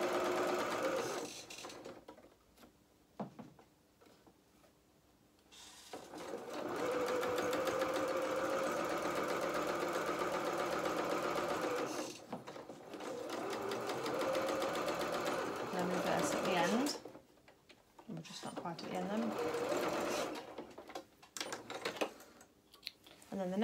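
Sewing machine running in steady bursts as it stitches the seam of a doll's trousers, with a brief reverse at the start and stop; someone talks softly between and over the stitching.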